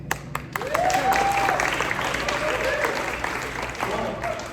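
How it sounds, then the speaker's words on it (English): Audience applause at a senior chorale concert in Highlands Ranch, a sustained wash of clapping that swells after a brief start and holds steady for several seconds, with a faint tone riding over it. "May we have a round of applause, please, for Chris Garenti"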